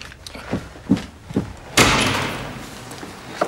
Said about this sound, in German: Mach die Tür auf!